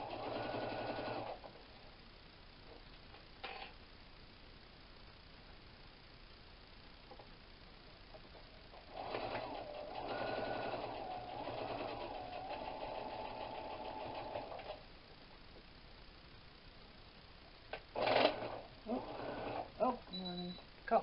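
Sewing machine stitching through several layers of a tote bag, bursts of rapid mechanical whirring close by, the longest running several seconds, with quiet gaps and a few short final runs.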